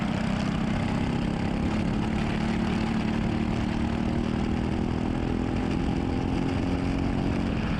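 LO206 racing kart engine during a Masters division race, a steady close droning engine note holding continuously throughout with no talk.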